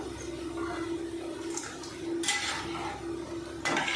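Crispy fried onion pakoda tumbling onto a plate, giving a few clattering, clinking hits against the dish over a steady low kitchen hum, with no talk.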